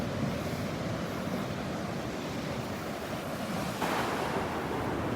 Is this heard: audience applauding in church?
no